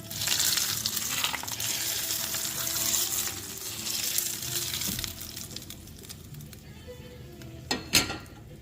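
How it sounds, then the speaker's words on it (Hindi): Hot oil poured over a spread-out minced-meat loaf (lagan ki seekh) sets off a loud, bright sizzle that gradually dies down, with a couple of brief clinks near the end. "और अब हम इस पर गरम गरम ऑयल जो हमारा हो गया है वो डालेंगे।"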